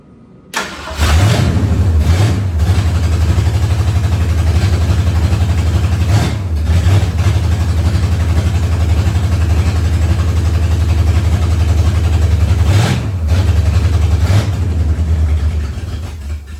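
A 1968 Ford Torino V8, just back running after 20 years sitting in a barn, cranks and fires up into a loud, close, rumbling idle, with several sharp revs blipped up and settling back down.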